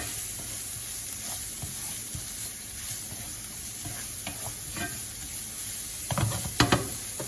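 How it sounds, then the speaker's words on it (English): Cracked pepper and salt are stirred into bacon and mushrooms frying in a pan, with a steady sizzle underneath and a few scraping utensil clatters, louder near the end. "give it a quick stir"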